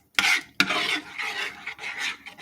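A big spoon stirs a thickened cream sauce in a pan for cream poached eggs, producing close scraping and rubbing strokes, a sharp scrape followed by a steadier swirling stir, with no voices.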